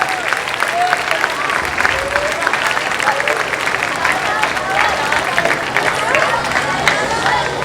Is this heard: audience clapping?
yes